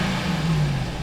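A RAM TRX pickup fitted with an AWE exhaust, heard with the rear window open as the engine gives a deep, loud rumbling blip that swells and settles within a second.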